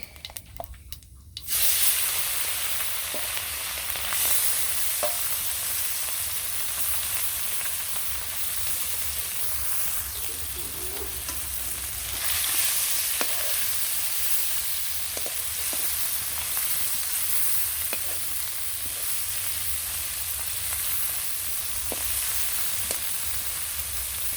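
Cumin and radhuni seeds frying in hot oil give a steady, close sizzle and hiss that runs unbroken for the whole stretch, with a few faint clinks of stirring and no talk.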